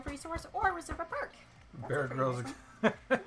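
Indoors during a board game, a nearby dog gives a few short barks and yips mixed in with people chatting, with a couple of sharper bursts near the end.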